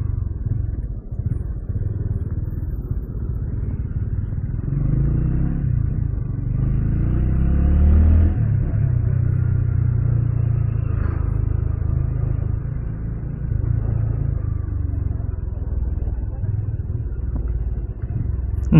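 Motorcycle engine running steadily through a ride, a continuous low rumble that swells slightly in the middle, close by with no talking over it.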